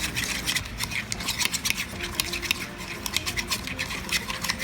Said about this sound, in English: We're going to incorporate the oil little at a time to form an emulsion in the bottom of the bowl.